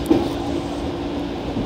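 A train on the Tsurumi Line's Umi-Shibaura branch in Yokohama rumbles along from inside the carriage, a low, steady roll with a faint hum over it.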